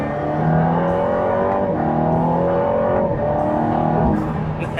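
An Aston Martin Valhalla supercar engine revs steadily with harmonic tones rising and falling through the gears, loud and close, continuous for the whole stretch, with audible turbocharger.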